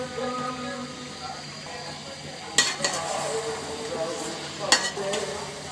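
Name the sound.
chicken stirred with green chili and spice paste in pan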